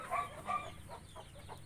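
Hens clucking softly among farm fowl while a hen lays eggs, a few brief close clucks rising over a quiet yard background.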